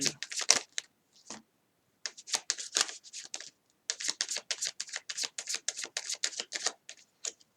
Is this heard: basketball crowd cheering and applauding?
no